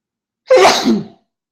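A single sharp sneeze, loud and close, bursting out of silence and fading within about a second.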